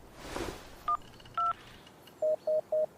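Phone keypad tones beep out a number: two separate higher beeps, then a quick run of four identical even-spaced tones, clear and close over faint background hiss with a brief soft noise at the start.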